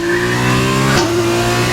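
An F2 race car engine revs hard in a racing game, a loud, steady high-pitched whine that shifts up once midway, close and continuous with no talking.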